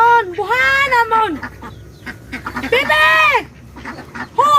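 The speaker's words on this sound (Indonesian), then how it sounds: "Bebek." Duck quacking in a rural Batak setting, two long nasal harmonic calls with a pause between and a third starting at the end, loud and close over a faint background.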